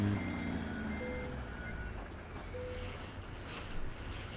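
Truck reversing beeps in American Truck Simulator, a steady series of evenly spaced electronic beeps over a low engine rumble, moderately loud, with no talk.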